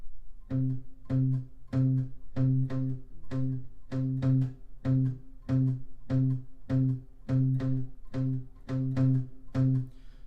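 An electric guitar plays a steady, repeating rhythm of short palm-muted notes from a song, clipped and even, with brief gaps between each pattern.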